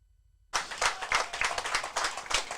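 A crowd at a high school softball game claps for an injured player, applause bursting in after a moment of near silence and continuing as steady, fairly distant clapping to the end.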